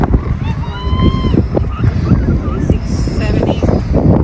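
Strong wind gusts at the Wicked Tulip farm in Preston, Connecticut, rumbling and buffeting the microphone in a steady, loud roar, with people talking over it throughout.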